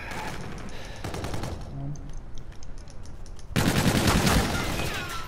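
Gunfire in a Call of Duty 3v3 match, bursts of shots at the start and a dense, louder volley in the second half, with teammates' voices talking over it.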